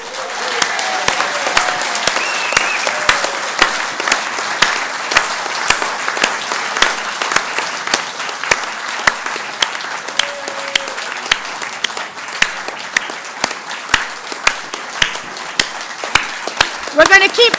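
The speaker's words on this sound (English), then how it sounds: "We're going to keep clapping till you get here" Sustained applause from a conference audience at the ALBA Party Spring Conference 2023 welcomes an arriving speaker, a steady wash of many hands clapping with occasional louder claps and faint voices underneath for the whole stretch.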